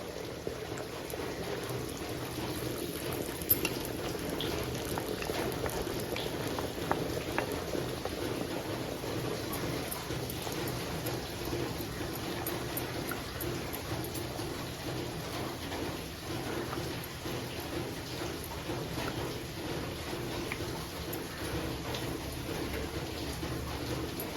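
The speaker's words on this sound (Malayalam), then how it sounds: "ഒരു ചീനച്ചട്ടി അടുപ്പിലോട്ട് വെച്ചിട്ടുണ്ട് അതിലേക്ക് ഒരു അല്പം വെളിച്ചെണ്ണ ഒഴിച്ചു കൊടുക്കാം നമ്മുടെ മുട്ട ഇതിനകത്തോട്ട് ഒഴിച്ചൊന്ന് സ്ക്രാമ്പിൾ ചെയ്തെടുക്കാം" Beaten eggs cook in coconut oil in a kadai for a Kerala-style egg fry, giving a continuous, even sizzle that holds steady for the whole stretch with a few faint clinks and no voices.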